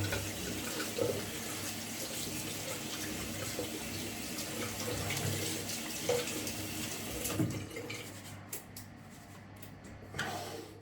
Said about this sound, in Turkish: O zamana kadar yine fırçamı temizliyorum. Köpükten kurtarıyorum.